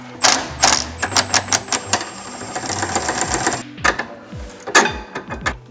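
A wrench loosens the nut on the traction link of an MK3 Toyota Supra, giving bursts of rapid metallic ratcheting clicks close up, separated by short pauses and uneven knocks.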